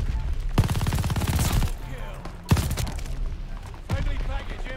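An MG42 machine gun in Call of Duty: Vanguard firing in three long, rapid, loud bursts separated by short pauses, with echoing tails between them.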